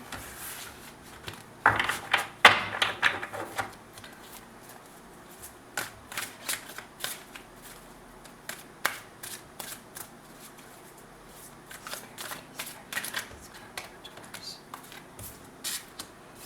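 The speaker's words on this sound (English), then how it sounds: "this deck is very difficult to shuffle" A large tarot deck riffles and snaps in short bursts, with a louder flurry near the start and scattered crisp taps and slaps afterward, close and fairly quiet.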